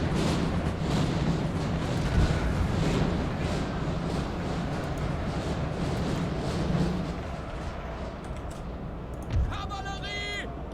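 Napoleonic-era cannon and artillery in Napoleon: Total War, heard as a dense, continuous rumble of distant booms and battle noise that thins out toward the end.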